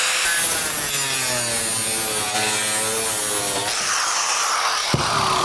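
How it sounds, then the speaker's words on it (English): An angle grinder buzzes steadily against plastic siding, a harsh rasping whine with shifting pitch that changes character near the end as the cut finishes, with a small knock just after. "The grinder is more melting the plastic, not cutting it."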